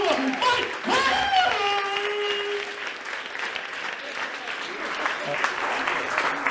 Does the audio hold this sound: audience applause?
yes